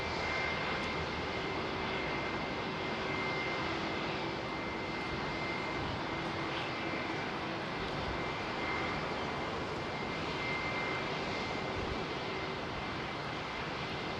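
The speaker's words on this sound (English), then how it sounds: "Even that's a nice sound with those IAEs sitting there idling away." Airliners fitted with IAE jet engines idle at Heathrow, giving a steady, continuous whine and broad rumble that holds at an even level throughout, with no voices.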